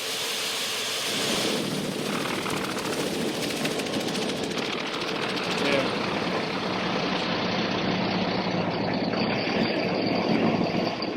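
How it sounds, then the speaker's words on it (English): The engines of an Mi-35 attack helicopter start up and build into a steady, loud turbine whine and rumble that carries on throughout. "the engine mechanics signal pilots to start the engines."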